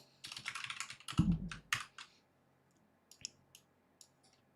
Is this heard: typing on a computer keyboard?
yes